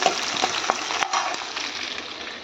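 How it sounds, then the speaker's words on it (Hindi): Onions frying in a pan give a close, steady sizzle with several sharp stirring clicks and taps in the first second, fading slightly toward the end, no talk. "तो गाइस, प्याज मैं फ्राई कर रही हूँ"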